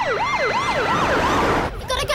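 Ambulance siren wailing in a loud, close, rising-and-falling sweep, repeating several cycles before abruptly switching to a faster warble at the end.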